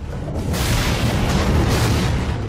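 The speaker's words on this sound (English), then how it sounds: "It's his turn to shoot aimlessly into the trees." Gunfire from the 1987 film Predator, sprayed aimlessly into jungle trees: a loud, dense, continuous roar of shots and blasts, sustained throughout with no pauses.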